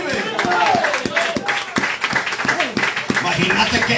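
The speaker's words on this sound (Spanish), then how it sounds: "Le palmas al que vive." A church congregation clapping hands in quick rhythmic bursts, loud and close, mixed with a preacher's raised voice speaking over the claps.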